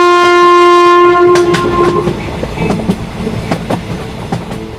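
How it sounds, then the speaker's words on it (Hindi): A cartoon train starting to move: a loud sustained horn blast fades out, then wheels begin a steady clickety-clack on the rails. The sound is close and nobody talks. "तभी ये ट्रेन शुरू हो जाती है"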